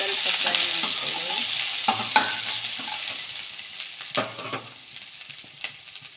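Grated coconut fries in a pan for lemon rice, a steady close sizzle broken by a few sharp scrapes and knocks of a spoon stirring.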